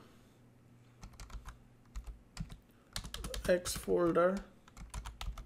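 Keys on a computer keyboard click in short, scattered bursts, close and crisp, with quick runs of rapid typing between pauses. Someone speaks briefly over the typing partway through.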